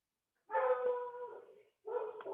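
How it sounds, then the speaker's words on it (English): A dog at home gives two drawn-out, whining barks during an online class session, each call lasting about a second with a short gap between, fairly close and clear against an otherwise quiet background. "Sorry about my dog."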